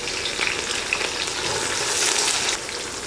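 Onions with mint and coriander leaves sauté in a pan for country chicken biryani, producing a continuous loud sizzle with light stirring scrapes throughout.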